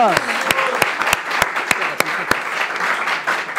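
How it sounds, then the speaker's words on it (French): Applause from the audience at the final of a quiz competition show rises for the competing teams, a steady wash of many hands clapping with sharp, regular claps standing out, while a voice speaks over it. "on peut applaudir pour les équipes"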